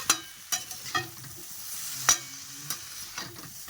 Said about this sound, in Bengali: চাউমিনটা ভেজে কাঠের খুন্তিতে না চাউমিনটা হয় না